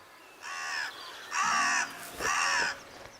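Crows near their nest give three harsh, drawn-out caws at an even pace, clear and fairly close over a quiet background.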